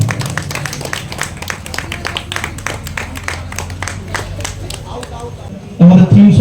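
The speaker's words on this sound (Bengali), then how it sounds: "একটু জোরে করতালি দিয়ে অভিবাদন জানাবেন" Crowd at a Kali puja gathering clapping in a steady, dense patter of applause, with a voice over a loudspeaker talking over it toward the end.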